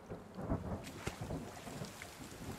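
Steady rain hisses in The Forest video game, with a low thunder rumble and a few sharper cracks rising over the dense, even downpour; no voices.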